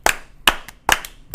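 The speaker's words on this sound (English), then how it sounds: "Slow clap." Slow clap from podcast hosts: four sharp, evenly spaced hand claps, close and crisp, about one every half second, with no speech.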